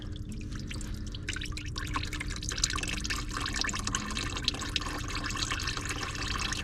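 Engine oil drains from the oil filter housing of a 2008 Mazda CX-7 into a filter cup, a steady close trickling and pouring of liquid with faint drips running throughout, no talking.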